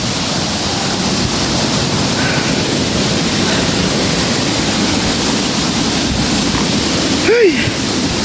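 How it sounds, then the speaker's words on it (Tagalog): Kabigan Falls in Ilocos roars as a steady, loud broadband rush of falling water heard close by, with a brief vocal sound near the end. "Ayun na yung falls."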